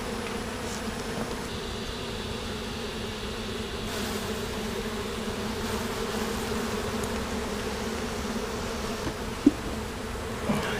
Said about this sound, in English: See, there's plenty of bees in here.